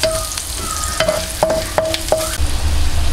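Garlic and chili are stirred and fried in butter in a pan, giving a steady sizzle broken by several sharp scrapes and clinks of a utensil, close and fairly loud, with no voices.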